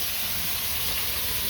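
Fish frying in a pan, a steady close sizzle and hiss that runs unbroken and fairly even throughout, with no voices over it.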